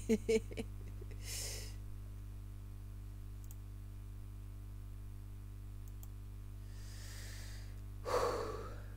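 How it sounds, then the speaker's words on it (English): Pinky demons dying in Doom give two faint, breathy, snoring-like snorts, one early and one near the end, over a quiet steady hum with a few soft clicks. "when the pinkies die, it sounds like snoring"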